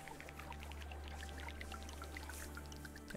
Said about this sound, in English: Fill all this with water.